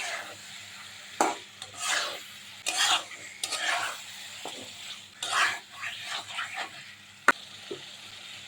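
Chicken being stirred into fried spice masala in a pan, for a country chicken and mung dal dish: repeated scraping stirs and clinks of a spoon against the pan, with a light sizzle underneath.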